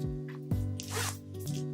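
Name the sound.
zipper on a fold-over clutch being opened or closed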